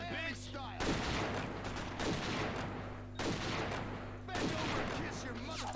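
Sustained gunfire from Scarface: The World Is Yours on the PS2 comes in loud, dense bursts that rattle almost continuously, with brief lulls between volleys.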